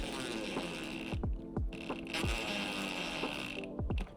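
DeWalt power driver driving a fastener into a splitter air dam on an Integra, with the ratcheting, whirring motor rising in repeated short bursts at close range over a steady background hum.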